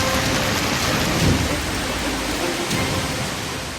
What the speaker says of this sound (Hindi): यहाँ लगातार हो रही बरसात के बाद सरयू नदी का जलस्तर बढ़ गया